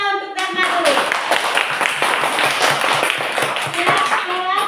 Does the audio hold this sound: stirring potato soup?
no